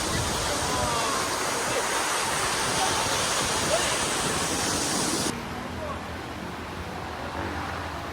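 Waterfall reached after a trek, a dense, steady roar of falling water that fills the scene, then drops to a slightly softer but still continuous rush partway through.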